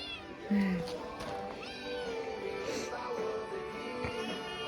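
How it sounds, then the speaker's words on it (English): A cat meows a few short times, close by and fairly soft, while people talk during a lighting installation on a John Deere 4440 tractor. "The kitty's even helping over here."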